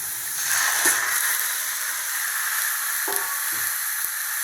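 Chicken pieces sizzle and fry steadily in a hot pan while cooking a chicken chukka, a continuous close hiss with a few light clinks and stirring knocks.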